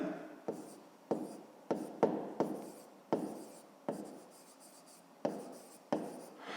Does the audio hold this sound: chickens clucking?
no